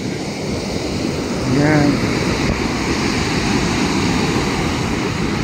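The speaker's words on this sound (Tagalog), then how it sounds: "Ang lalaki ng alon guys, yung hampas ng alon." Big ocean waves crash and roll onto the shore at San Juan, La Union, as a loud, continuous roar of surf with wind noise, while a voice speaks briefly.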